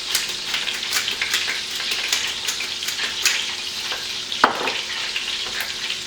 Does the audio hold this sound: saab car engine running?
no